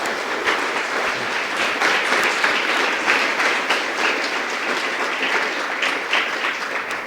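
A church congregation breaks into loud sustained applause, many hands clapping together in a dense continuous roar that holds steady from start to finish.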